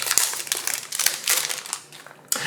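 A Lorcana card display box has its plastic wrapping torn open by hand, giving a crisp, close series of crinkling and crackling bursts with a sharp final rip near the end.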